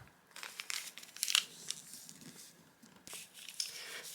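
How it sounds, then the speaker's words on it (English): A paper sewing pattern for a circle skirt is folded in half, giving soft crinkling and rustling close by, quiet with a few sharper crackles. "for the back, you're going to fold your pattern in half"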